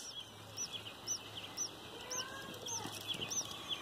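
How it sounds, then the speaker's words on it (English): Tiny newly hatched baby birds in a front-yard nest give a run of high, faint peeping chirps, about six evenly spaced calls over a soft outdoor background. "Come look at the baby birds."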